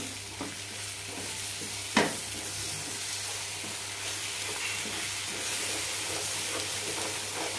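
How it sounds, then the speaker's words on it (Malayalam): Ground masala paste with curry leaves being sautéed over low flame for a curry gravy, a steady close hiss of frying with one sharp utensil knock against the pan. "കൂടെ തന്നെ അരച്ചു വെച്ച പേസ്റ്റ് ഇടാം നന്നായി വഴറ്റാം"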